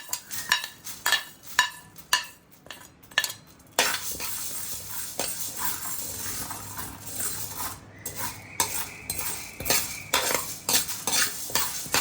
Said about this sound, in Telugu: ఇవి చట్ సౌండ్ వస్తాయి చూడండి, ఇలాగ అవుతుందంటే ఇది వేగిపోతున్నట్టేనండి